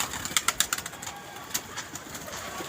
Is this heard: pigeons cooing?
yes